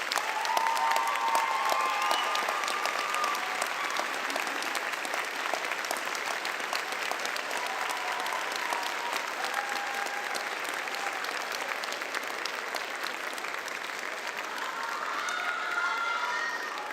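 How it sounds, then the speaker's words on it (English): Sustained audience applause fills a hall at a Medical College of Wisconsin medical school white coat ceremony, steady and dense for the whole stretch with a few faint voices underneath. "give them a round of applause for helping you reach this point"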